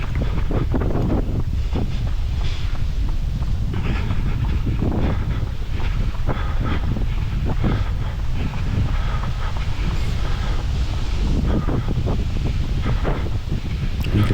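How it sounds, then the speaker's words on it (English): Gusty wind along a flat, wide park path at Woodlands parkrun in Scarborough, with tree leaves blowing overhead. It roars steadily and loudly into the microphone for the whole stretch, with no talking. "It's quite gusty wind today."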